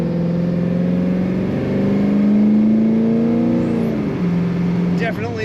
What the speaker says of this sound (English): Lots of acceleration. Great sound to that motor as well.